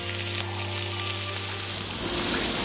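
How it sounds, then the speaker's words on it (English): Corn and red pepper fry in a pan, giving a steady, close sizzle that carries on without a break from start to finish, with no voices over it. "I'm going to add our corn and also our red pepper. And we're going to cook this for a minute or two."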